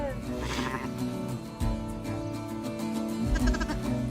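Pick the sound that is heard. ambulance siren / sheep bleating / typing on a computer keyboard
sheep bleating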